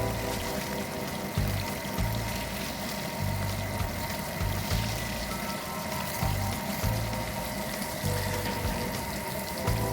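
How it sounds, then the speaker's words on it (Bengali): Fish frying in hot oil in a pan in a home kitchen, a continuous hissing, bubbling sizzle held steady for the whole stretch with a low cooktop hum beneath and no talk. "মাছটা এক পিঠ ভালোভাবে ভেজে নেব"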